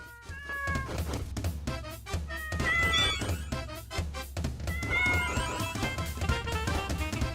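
A cat meows repeatedly in the video game Deltarune Chapter 4, the cries standing out over steady background music and occasional thunks.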